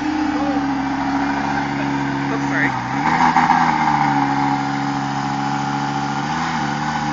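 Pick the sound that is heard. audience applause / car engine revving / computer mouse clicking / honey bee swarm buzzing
car engine revving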